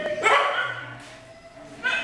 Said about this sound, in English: Now the dogs are released. They are just running around with the other dogs.